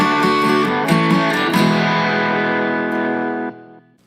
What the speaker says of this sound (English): that sound is your halfway point reminder